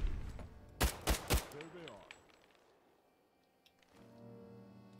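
Gunfire in Fallout 4: a quick burst of three loud shots in rapid succession, followed by a ringing metallic tail that fades into quiet before a low hum returns.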